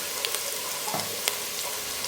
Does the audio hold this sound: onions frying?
yes